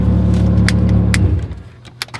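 A car that had sat idle for months rumbles steadily, then its engine is switched off and the sound dies away, followed by a brief jingle of keys.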